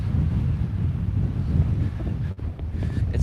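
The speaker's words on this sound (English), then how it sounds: "It's very windy today." Strong wind gusts buffet the microphone on an outdoor bay trail, a loud, steady low roar with a brief dip partway through, heard on its own without talk.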